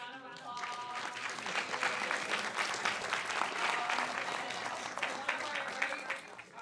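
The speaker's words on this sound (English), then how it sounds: "Can we give them a big round of applause?" Steady applause from the audience at a hackathon closing ceremony, honoring the event's sponsors, with dense clapping sustained throughout and tapering slightly at the end, with faint voices mixed in.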